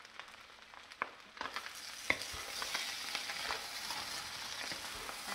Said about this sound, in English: I just need to give it a few more seconds to fry up